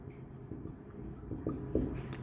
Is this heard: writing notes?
yes